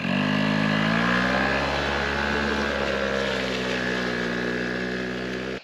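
A Quadzilla Buzz 50cc kids' quad bike engine runs steadily at its slowest speed, a loud, close, continuous buzzing drone with no talk over it.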